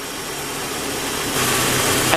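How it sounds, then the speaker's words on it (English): A car engine idling steadily as it warms up after a Seafoam fuel treatment, a close, continuous broadband hum and whir that grows slightly louder partway through, with a small knock near the end. "Now you want to let your motor warm up, and I'm going to let it warm up a few minutes."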